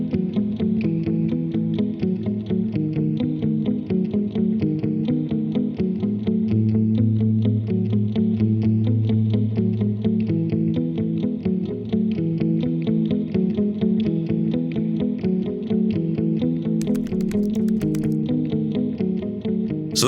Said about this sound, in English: One of the other things that people use this for in conjunction with the delays is actually its reverb.